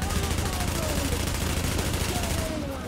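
Gunfire in The Division: rapid, loud automatic bursts repeating steadily for the whole stretch, close and dense, easing off only at the very end.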